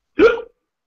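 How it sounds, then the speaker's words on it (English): A single short hiccup that is partly a laugh, a brief voiced catch from one person, close and fairly loud, then silence. "It's sounded just more like a hiccup than a bloody laugh."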